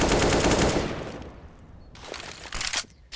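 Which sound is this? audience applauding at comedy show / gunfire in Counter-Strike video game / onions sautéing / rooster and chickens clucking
gunfire in Counter-Strike video game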